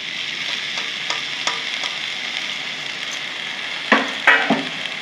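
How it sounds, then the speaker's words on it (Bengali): Washed, chopped fiddlehead fern greens (dhekia saag) go into a hot pan and are stirred, giving a steady frying sizzle with a few louder clattering scrapes of stirring near the end. "যে ঢেঁকি শাকটা ভালো করে ধুয়ে কেটে রেখেছি এগুলো এখন দিয়ে দেবো।"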